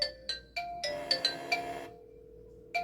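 A phone ringtone plays during an outgoing test call through a Kospet Tank X1 smartband: bright, repeating electronic chime notes in quick succession, loud and close, followed by a short pause and a fresh note.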